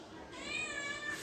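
A cat meows in one drawn-out, high, wavering cry during a yoga session, loud and close over faint background noise.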